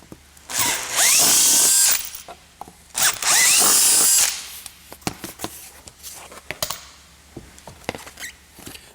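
A power drill bores 13 mm holes through vehicle trim on a Land Rover Discovery side step fitting, two loud whining bursts of about a second each with clicks and handling noises between and after.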